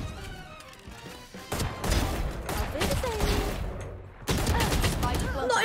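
Gunfire from a Valorant match comes in bursts of sharp shots with crashing impacts, loud and close, with a brief drop before a final heavy burst.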